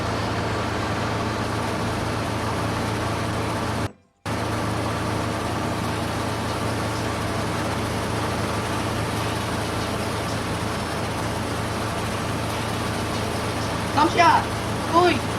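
A new tractor runs in Farming Simulator 19 during an oat harvest, its engine giving a steady, low idling drone that cuts out briefly once and resumes, with a few faint higher clicks near the end.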